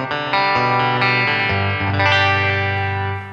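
Electric guitar with a Radio Shop standard-path humbucker in position one, played through a Fender Princeton Reverb amp on a very clean setting; sustained chords and notes ring out steadily, close and fairly loud, with no talking.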